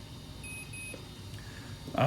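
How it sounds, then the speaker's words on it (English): An ARRMA RC car fitted with an aftermarket police light and sound module gives two quick, thin high beeps in close succession, followed by a short clunk. "holding it down and waiting for it to beep twice"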